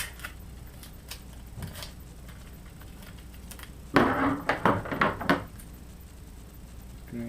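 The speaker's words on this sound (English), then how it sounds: "I'm going to cut myself a nice fresh piece with some normal scissors" Ordinary scissors slice through a fresh strip of tape in a quick cluster of crisp snips and rustles near the microphone, following a stretch of quiet room noise with a few light taps.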